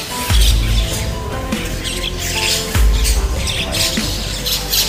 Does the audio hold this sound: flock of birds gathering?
yes